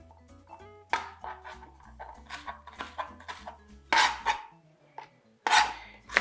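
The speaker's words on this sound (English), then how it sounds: "Once you chop the onions," Onion being chopped into small pieces with a knife on a board, a quick irregular series of close, crisp cuts and taps, some louder slicing strokes, and no one speaking.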